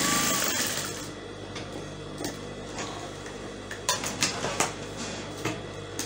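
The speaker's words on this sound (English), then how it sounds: "So I finished stitching." A sewing machine stitches a flounce blouse, its needle ticking steadily and close, with a run of sharper mechanical clacks toward the end.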